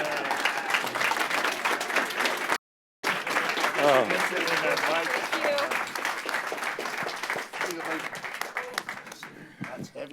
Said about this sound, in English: Everybody give a big round of applause to Perry and OJ